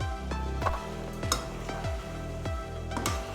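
Spices roasting in a pot for chicken korma, stirred with a spoon that clinks against the metal in a steady rhythm over a soft, continuous sizzle.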